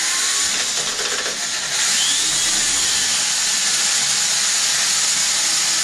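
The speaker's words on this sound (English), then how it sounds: "You take a drill, just get in there, and let the drill do the work." A power drill whirs steadily as its bit cuts into a radio-controlled plane, a continuous hissing, high-pitched spin that rises slightly after a brief start, heard alone without talk.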